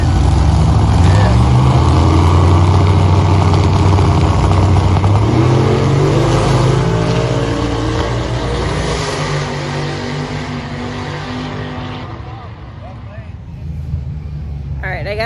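The Home Grown Hustler drag racing car roars at Dragway 42, a loud rising and falling engine howl that fades away into the distance, with people talking over the noise.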